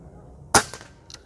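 A single sharp shot from a Hatsan Nova Tact .22 PCP air rifle, a loud close crack with a quick decaying tail and a faint click just after, in otherwise quiet surroundings.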